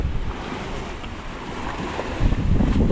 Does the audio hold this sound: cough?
no